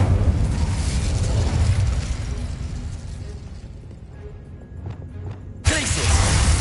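The Incendio fire spell in Hogwarts Legacy lets out a loud whooshing burst of flame with roaring crackle that fades, followed by a sharp new blast near the end.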